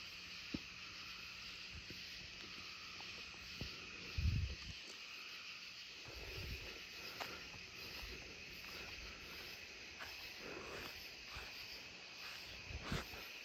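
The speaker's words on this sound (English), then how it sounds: "I think I hear Colombian trigs in them actually." Columbian trig crickets chirp from the trees as a quiet, continuous high trilling chorus, mixed with faint night insect calls and occasional soft bumps close by.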